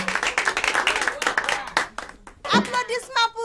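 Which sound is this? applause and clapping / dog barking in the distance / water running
applause and clapping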